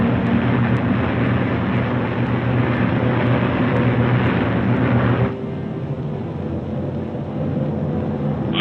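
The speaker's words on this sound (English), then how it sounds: "The Mustangs climb in formation to take positions above the boxes of" Several P-51 Mustang fighters climb in formation as escorts for B-29 bombers, a steady, loud broadband engine roar with wind rush that drops to a lower, quieter drone partway through.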